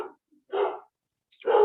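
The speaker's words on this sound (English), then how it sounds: "you hear the dog barking?" A puppy barks twice, about a second apart, in short, fairly clear yips with silence between them.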